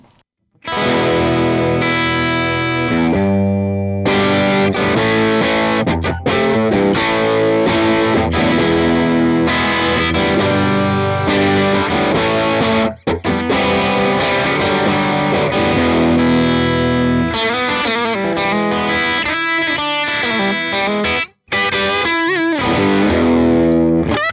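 A heavily distorted electric guitar plays chords and riffs through a Hughes and Kettner Spirit Nano amp head with sag, tone and gain at 12 o'clock, loud and saturated, with a couple of brief gaps between phrases.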